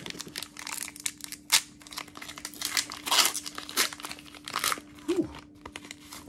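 A Pokémon card booster pack being torn open up close, with bursts of crinkling foil and ripping wrapper, irregular and fairly quiet.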